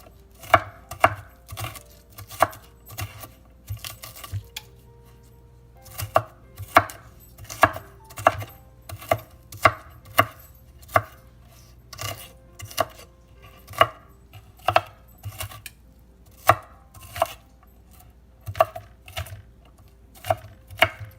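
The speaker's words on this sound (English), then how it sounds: "I probably don't chop onion like a professional chef" Onion being chopped on a board, a run of crisp, evenly spaced knife strikes at a brisk, steady rhythm with one short pause, close and loud with no speech.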